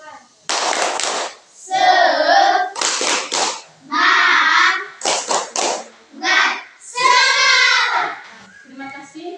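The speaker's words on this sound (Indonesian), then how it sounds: "coba tepuk semangat" A fourth-grade primary school class in Indonesia performs a rhythmic clapping chant, with sharp bursts of group handclaps alternating with the children's loud chanted phrases in a steady call-and-response pattern.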